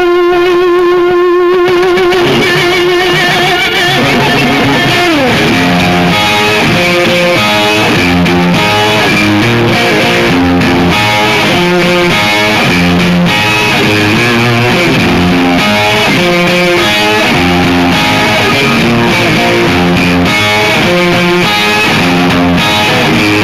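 Distorted electric guitar plays a riff through an effects unit, loud and sustained, opening with held notes before a busy run of chords and bends that continues without pause.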